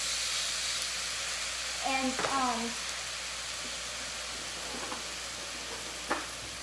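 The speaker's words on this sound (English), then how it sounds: "you just take your hamburger or your chicken, hear that sizzle" Steady, loud sizzling hiss of hamburger or chicken browning in a pressure cooker fills the clip, with a few clanks and a brief voice in the background.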